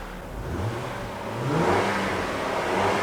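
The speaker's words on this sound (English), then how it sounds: "Let's give it a little gas." A Honda car engine gets a light dose of throttle, its mid-pitched hum rising and swelling slightly midway through a short, steady rev with no voices.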